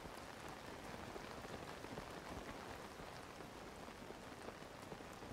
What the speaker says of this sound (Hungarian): Esik az eső.